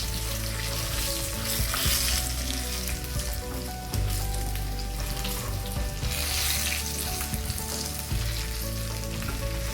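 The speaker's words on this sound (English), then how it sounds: "We don't want our garlic to burn." Garlic and red chilies fry in a pan of hot oil, a steady, close, loud sizzle with occasional stirring clatter and no speech.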